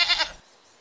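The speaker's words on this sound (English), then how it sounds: "So it's a goat in the shed." A domestic goat bleats once in a shed in the Zoo 2 Animal Park video game, a short, fairly loud in-game call that cuts off and leaves quiet behind it.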